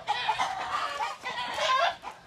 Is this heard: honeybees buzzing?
no